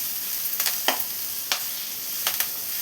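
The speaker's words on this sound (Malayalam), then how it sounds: "അതും കൂടെ ഇപ്പോൾ ചേർത്ത് കൊടുത്ത് നന്നായി മിക്സ് ചെയ്തെടുക്കണം." Drumstick leaf dal curry being mixed in a pan over a medium flame, with a steady background sizzle and several soft scraping strokes of a spoon against the pan.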